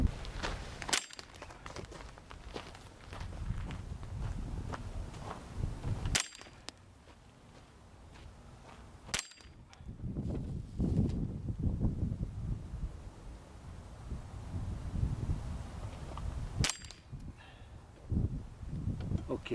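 Shots from a Beretta ARX 160 .22 LR rifle at an outdoor range, four sharp, isolated cracks spaced several seconds apart over faint rustling and quiet background noise.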